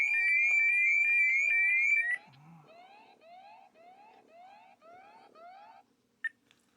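A smart pool alarm shrills loudly and piercingly, then stops abruptly and gives way to a quieter repeating pulsed beep pattern and a brief click.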